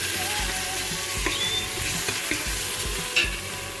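Tomatoes and onions fry in a pan with oil, salt, black pepper, turmeric and spices, a steady close sizzle broken by occasional scraping stirs of a utensil against the pan.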